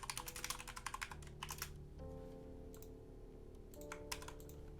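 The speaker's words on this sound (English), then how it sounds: "Your keyboard is loud." Computer keyboard typing picked up by a nearby mic, quick bursts of clacking keystrokes, fairly loud and close, over a steady hum with no talk.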